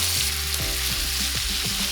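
Lamb sizzling in extra virgin olive oil in a hot pan, a dense, loud, continuous frying hiss over the whole short stretch, with no speech.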